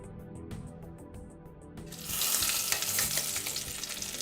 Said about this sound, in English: Add the oxtail to the pan and sear until golden brown.